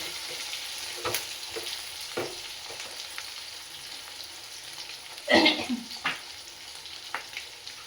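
Green chillies frying in hot oil give a faint, steady sizzle with a few soft clinks and stirring scrapes, one louder clatter near the middle, no voices.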